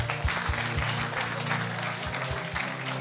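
A church congregation applauds the Lord with dense, continuous clapping, a crowd of hands close and lively for the full few seconds, with a low rhythmic thump beneath.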